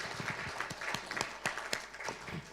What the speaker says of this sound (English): let me also put my hands together to clap for the great participants we've